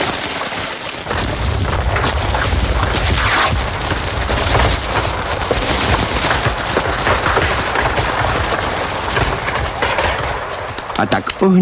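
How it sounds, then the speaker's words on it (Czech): Cartoon fireworks going off over a pond at a village night festival: a rapid run of loud bangs, crackles and bursts filling the scene, with no talk over them. "A tak ohňostroj nakonec spustil Krkovička"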